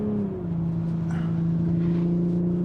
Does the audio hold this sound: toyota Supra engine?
yes